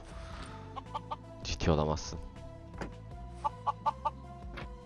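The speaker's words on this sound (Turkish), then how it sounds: "Tavuğu mu yakalamaya çalışıyorsun?" Chickens in the video game Minecraft cluck in short repeated bursts, several soft clucks spaced apart, with game sounds and a brief spoken line in between.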